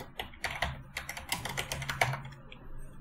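Rapid, uneven keystrokes clatter on a computer keyboard as a short chat message is typed, close and clear with no talking over it.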